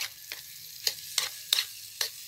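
Food gets stirred in a pan with five or six distinct scraping strokes at a steady pace, each a short bright scrape against the pan, close up over a faint background hum.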